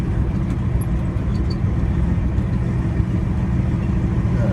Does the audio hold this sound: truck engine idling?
yes